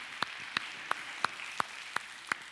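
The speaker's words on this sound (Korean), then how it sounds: "설혜교 환영의 박수 한번 하겠습니다." Welcoming applause at a Korean church service for newcomers: seven sharp, evenly spaced claps in a steady beat, fairly quiet and slightly distant, with no talking.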